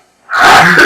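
A single sharp sneeze bursts out after a moment of near silence, close and loud, during a tabletop role-playing game session.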